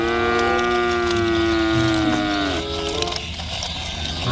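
A colorful toy buffalo lets out a long, loud electronic moo with a strong, slightly wavering tone that bends downward and gives way to background noise.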